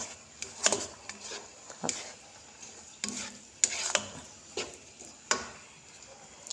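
Thai minced pork basil stir-fry bubbling in a watery sauce in a pan, soft intermittent popping and sizzling with scattered sharp utensil clicks, fairly quiet and close, no voices.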